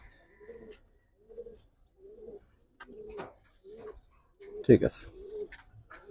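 Giribaz silver-coloured pigeons coo in a series of soft, evenly spaced low calls, close by and mostly alone, with a brief burst of handling noise and a short spoken phrase.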